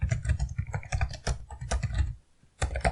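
Rapid typing on a computer keyboard while entering figures into an Excel spreadsheet, with dense, close keystrokes in quick bursts and a short pause before one final flurry.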